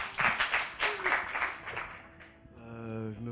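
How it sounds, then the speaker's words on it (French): Scattered, fairly quiet clapping from a small audience at a student association event comes in a few uneven bursts, then fades as a tonal voice-like sound takes over. "On peut applaudir."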